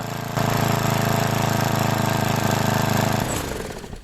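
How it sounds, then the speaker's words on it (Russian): A small lawn mower engine runs steadily at idle while its speed is trimmed with the carburetor's idle adjustment screw, giving a close, continuous mechanical drone that sags and drops slightly near the end. "слегка можем подрегулировать обороты двигателя при помощи винта, который находится на карбюраторе"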